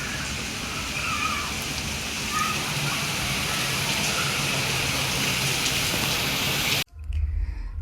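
Steady rain pours near a balcony with water running and splashing, a dense continuous hiss that cuts off abruptly near the end, followed by a brief low rumble.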